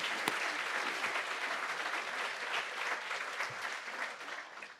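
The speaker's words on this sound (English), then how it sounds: "Let's go ahead and give them a round of applause." An audience at a high school senior honors recognition ceremony applauds, dense steady clapping that fills the room for several seconds.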